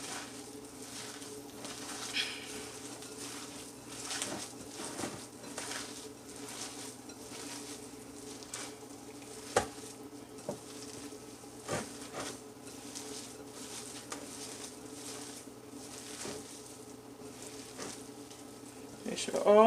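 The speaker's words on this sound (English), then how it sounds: "Now I'm going to go ahead and mix it together so we could get all the seasonings blended" Salmon croquette mixture being worked together with seasonings by gloved hands, a soft continuous squishing and rustling with scattered faint taps and clicks, fairly quiet and close, a brief sharper noise at the very end.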